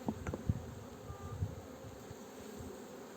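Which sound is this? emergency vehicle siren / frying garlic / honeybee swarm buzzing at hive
honeybee swarm buzzing at hive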